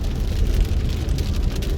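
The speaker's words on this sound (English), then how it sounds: "Now the clouds started forming and it started raining." Pre-monsoon rain falls steadily on a moving car on the way to Kanha Tiger Reserve, a dense, even wash of patter over a low road rumble, with no voices.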